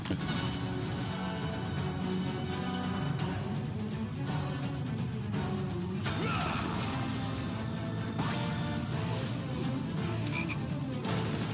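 A Final Fantasy VII Remake character turned into a frog croaks repeatedly over game music and effects, with several distinct croaks and crashing hits spread through the passage at moderate loudness.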